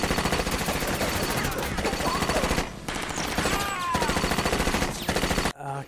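Machine gun fire from the film Scarface comes in rapid, loud sustained bursts with a brief pause midway and a sharp cutoff near the end, mixed with film sound and shouting voices.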